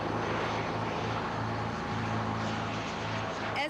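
A steady, droning roar of Air National Guard aircraft engines fills the scene as the plane descends, constant and loud with a low throbbing hum and no voices.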